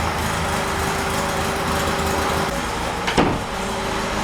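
A car engine with a vacuum-advance distributor idles steadily at close range on a dyno with a constant hum, broken by a brief sharp thump near the end.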